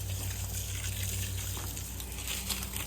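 Water rushes from a garden hose in a steady, hissing gush, sprayed onto an alpaca at close range with no pauses.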